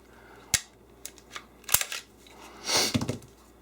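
A Glock 17 pistol fitted with a Trijicon red dot is taken apart, giving a few sharp metallic clicks and snaps followed by a longer sliding scrape of the slide coming off, close and fairly quiet.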